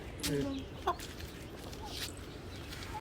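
Farmyard chickens foraging on leaves and grass give a couple of brief, fairly close clucks against a quiet outdoor background, with faint talk in the background.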